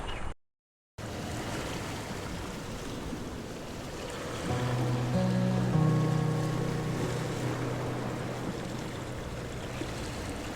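Ocean waves washing onto Redi beach in India below a hilltop fort, a steady broad rush of surf and wind that swells louder midway, with a faint low engine-like drone alongside.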